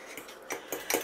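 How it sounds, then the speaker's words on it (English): A utensil mixes keto English muffin batter in a mug, giving four or five light clinks and scrapes at an uneven pace, close and fairly quiet, with no talking. "So, you mix this up really good."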